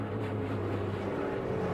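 Brad Keselowski's NASCAR stock car at the Ambetter Health 400 stays on the throttle, its engine a steady, dense roar held at full volume for the whole moment without a break.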